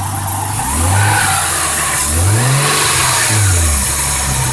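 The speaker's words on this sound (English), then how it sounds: "I'm going to go ahead and give it some gas." A car engine is revved while running, with about three rising-then-falling throttle sweeps over a steady idle, loud and close with no talking.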